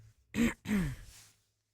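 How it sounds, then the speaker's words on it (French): Two quick, close throat-clearing rasps in succession, fairly quiet, followed by a soft trailing breath. "Je me contente de me racler la gorge."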